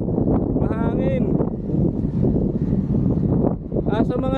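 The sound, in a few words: wind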